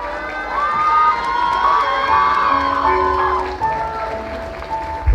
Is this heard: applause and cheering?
yes